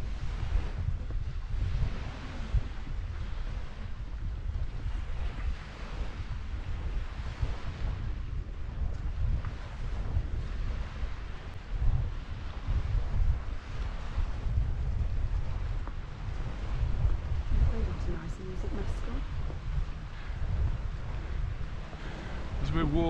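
Steady rushing wind and choppy, churning sea water at Palmanova, Mallorca, in December fill the whole stretch, a constant low roar with no clear individual wave breaks.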